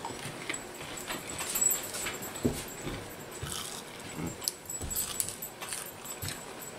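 A dog makes soft, intermittent whimpering noises amid light rustling and faint jingling, close by and fairly quiet.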